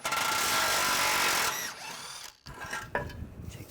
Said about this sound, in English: I'm going to use a 21mm socket on the bolt